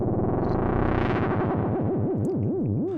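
A Roland JD-Xi synthesizer plays a sustained buzzy, effected tone that swells and then wobbles into a fast, deep pitch vibrato, heard alone and clearly.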